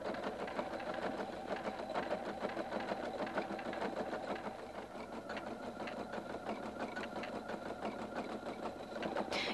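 A Husqvarna Viking Designer 1 computerized sewing machine embroiders at high speed, a continuous fast mechanical whirring with a dense stitching rhythm that holds steady throughout, close and alone.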